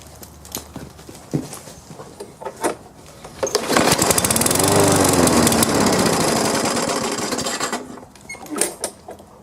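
A small lawn mower engine in need of carburetor cleaning runs rough, surging up loud for several seconds with a ragged, uneven roar, then dropping back to clattering and knocking sounds nearby.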